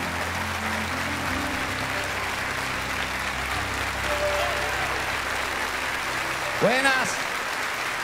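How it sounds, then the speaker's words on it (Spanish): Warm crowd applause in a television studio greeting a guest, a steady wash of clapping under brief talk and whistles, with a swooping tonal sound near the end. "Vamos a dar un caluroso aplauso al Señor de señores"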